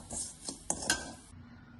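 A spoon stirs chopped mango and bilimbi into a cooled pickle paste, making wet squelching sounds and a few sharp clinks against the vessel over under two seconds.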